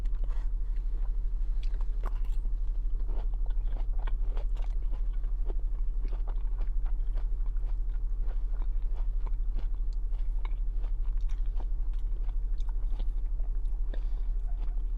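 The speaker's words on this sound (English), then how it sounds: "As you guys can hear, the onions are still crunching." Close, steady crunching as someone chews hibachi-style onions and zucchini, with sharp bites and crunches repeating through the whole stretch over a constant low hum, with no talking.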